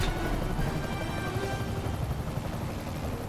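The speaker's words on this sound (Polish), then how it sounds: "Muszę wyłączyć silniki helikoptera." A helicopter's engine whirs in a dense, steady roar with a rapid rotor chop, loud and constant throughout with no voices, in a Spider-Man video game.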